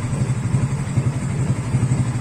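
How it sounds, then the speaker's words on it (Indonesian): Yamaha NMAX scooter engine idling steadily up close, a low, even throbbing pulse with a faint mechanical clatter, running alone with no voices. "dalam kondisi idle mesin"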